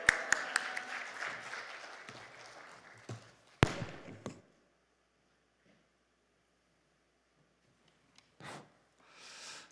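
A church congregation gives a short burst of clapping that fades out after a few seconds, followed by near silence and faint, brief sounds at the end.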